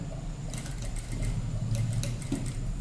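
A sewing machine stitches the folded edge of a blouse with lace trim slowly, giving a steady close mechanical whir with a faint rhythmic ticking that runs through the whole stretch, with no talk.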